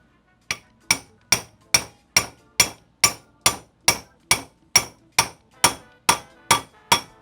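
A hammer strikes a tool fitted over a motorcycle steering stem during a Sportster front end rebuild, about fifteen sharp, evenly spaced metallic blows ringing close and loud with no talk.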